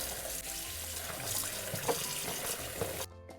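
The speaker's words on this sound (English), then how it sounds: "Fill it up with water" A kitchen tap fills a bowl of beef tripe with water for menudo, a steady close hiss of running water over about three seconds that cuts off abruptly at the end.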